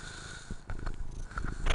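Close-up cat purring: a low, throaty rumble pressed near the microphone, rising and falling in short breathy pulses with a few snorting catches, fairly loud and with no voices.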